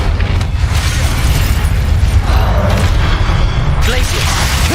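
Fire spell cast in the Hogwarts Legacy video game: a loud, sustained fiery whoosh and rumbling burst with dense low roar throughout, ending in bright sparkling magical flourishes.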